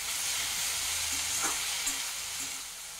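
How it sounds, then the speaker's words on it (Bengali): Bottle gourd stems frying with salt and turmeric while being stirred in the pan, giving a steady, close hiss of sizzling with faint scraping, and no talk. "এবার এটাকে আবার আমি একটু ভালো করে নেড়ে চেড়ে দিচ্ছি।"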